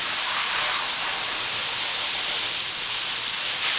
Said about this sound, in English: Because I'm spraying it from a certain angle